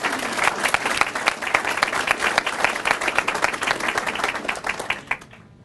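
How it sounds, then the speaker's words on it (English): Audience applause at an education awards ceremony for a teacher's standing friends and family, a large room of steady clapping with some louder nearby claps, continuing several seconds before tapering off. "if we can give them a round of applause"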